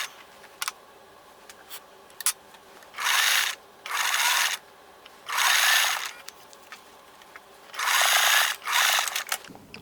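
A sewing machine stitches the armpit seam of a T-shirt while the fabric is stretched, running close by in five short, even bursts with quiet pauses between them and no talking.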